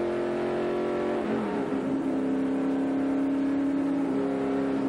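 NASCAR stock cars pulling out of the pits onto the track during a caution period at Charlotte in 1994, several loud engines droning steadily with a pitch shift as one revs up and passes, continuous with no talk.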